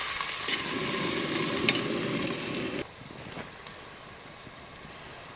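Onions sautéing in oil with curry leaves and fenugreek, a steady close crackling sizzle with stirring that drops to a quieter, fainter fry partway through.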